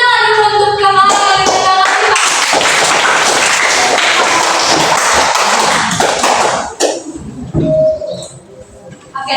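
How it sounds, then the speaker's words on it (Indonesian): Students in a grade six elementary science microteaching lesson clap for a classmate. A voice is heard briefly first, then a burst of close, busy hand clapping from a small group lasts several seconds before it cuts off abruptly into quiet room noise. "Oke, tepuk tangan dulu untuk kamu."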